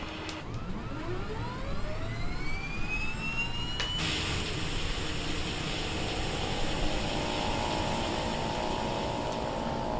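The right turboprop engine of an Embraer 110 spools up in Microsoft Flight Simulator, a rising whine sweeping upward and then settling into a steady loud roar with a high hiss.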